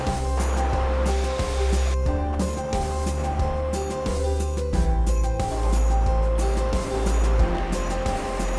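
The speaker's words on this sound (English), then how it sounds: "the East Fork of the Miller River combine, splashing over granite slabs" The East Fork of the Miller River rushes and splashes continuously over granite slabs, a loud, steady roar with no voices.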